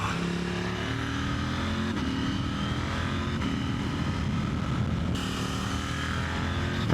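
A KTM 890 SMT supermoto motorcycle is ridden with a continuous engine drone whose pitch climbs and shifts as it accelerates, steady and fairly close with no talk over it.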